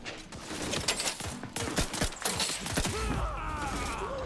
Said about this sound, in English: I need to reload